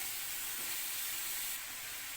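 Chopped vegetables for vegetable momo filling cook in a pan, giving a steady, soft hiss and sizzle that dips a little partway through. No one speaks.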